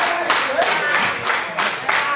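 Wrestling crowd at an RWA Hype show clapping in a steady rhythm for Kris Pyro, a dense roomful of claps in regular bursts with crowd noise and voices underneath.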